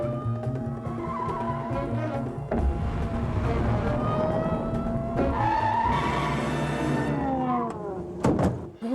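A car chase in a comedic ad for office supply stores, with an engine roaring and tires skidding loudly throughout and harmonic squeals sweeping over a steady rumble, ending in a sharp burst.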